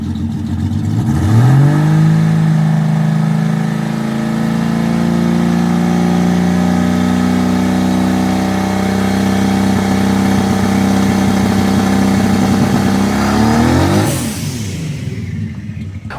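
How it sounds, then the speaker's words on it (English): Turbocharged Pontiac Sunbird engine revving and holding high on a trans brake in a driveway, a loud sustained steady drone that climbs, holds for about twelve seconds, then drops off abruptly. "we decided to do a couple of driveway tests on the trans brake just to see how the car would respond"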